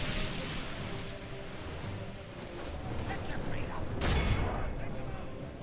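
Archers loose volleys at orc scouts in the strategy game Third Age: Divide & Conquer, a dense, continuous battle clatter with a sharper burst near the end and a voice talking over it.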